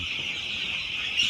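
Chicks on a poultry farm fed Shalimar feed, producing a steady, continuous high-pitched peeping chorus close by, with a faint rise near the end and no talking.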